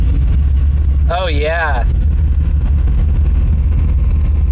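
A car engine idles with a steady, low, even rumble from start to finish, while a voice briefly speaks over it.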